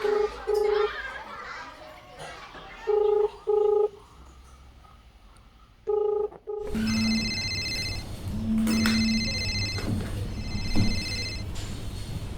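Several short bursts of telephone keypad tones as a number is dialed indoors, in separate groups, followed by a ringing call tone over background TV sound and children's voices.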